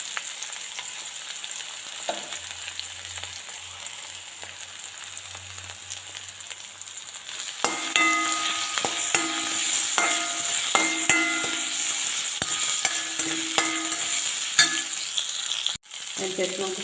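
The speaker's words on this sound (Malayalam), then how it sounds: "എണ്ണ ചൂടാകുമ്പോൾ നമുക്ക് അരിഞ്ഞ് വെച്ചിരിക്കുന്ന ഐറ്റംസ് ഓരോന്നായിട്ട് ഇട്ട് കൊടുക്കാം. അത് തന്നെ ഇഞ്ചി, വെളുത്തുള്ളി," Chopped ginger, garlic and green chili hit hot oil, bursting into a loud, close sizzle after a quieter stretch, with steady crackling frying and occasional spoon scrapes and clicks.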